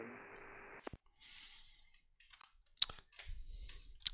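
Scattered keyboard key clicks on a computer during an air traffic control session, sparse and irregular taps with short pauses, fairly close and quiet, with no voice.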